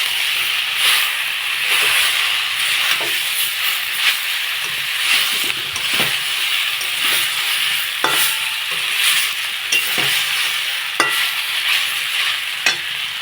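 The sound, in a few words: sautéing fried dried shrimp in tomato masala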